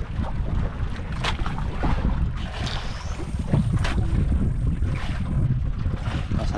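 Strong wind at sea aboard a fishing boat: a loud, steady roar of wind and rushing water runs continuously with no letup, close to the microphone, and no one talks.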